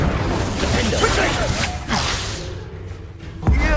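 Incendio fire spell cast in Hogwarts Legacy, a burst of whooshing flame with thuds and magical swishes, loud and dense, ending in a sharp impact near the close.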